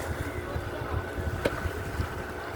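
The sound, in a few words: fishing boat arriving at the harbour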